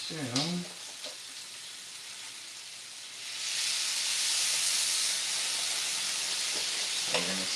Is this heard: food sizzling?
yes